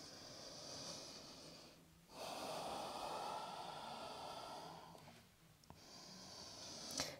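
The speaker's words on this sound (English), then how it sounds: "big exhale" A long, breathy exhale through the nose or mouth during a yoga forward fold, close and fairly faint, with a softer breath following after a short pause.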